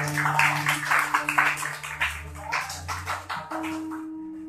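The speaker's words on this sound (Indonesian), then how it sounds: "Tepuk tangan dulu untuk Kisengkep" Audience applause and clapping for a performer at a youth organisation discussion event, a dense burst of many hands over the first few seconds, tapering and thinning toward the end, with a steady low hum beneath.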